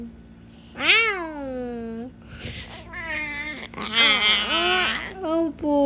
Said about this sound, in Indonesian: Wow, may pusa kami dito.